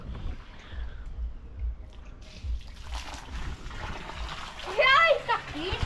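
Water from a backyard pool's waterfall feature surges on, splashing and sloshing into the swimming pool, building from a trickle to a loud, steady pour, with a brief child's squeal near the end.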